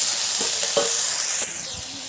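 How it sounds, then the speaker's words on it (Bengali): A ground paste for a fish curry with pointed gourd and potato fries in hot oil with a steady, close sizzle, broken by a few scraping strokes as it is stirred. "ভালো করে লাল করে ভেজে দেবো। ভালো করে নেড়ে নিচ্ছি।"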